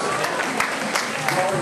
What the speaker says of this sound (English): How about a big round of applause for Simon?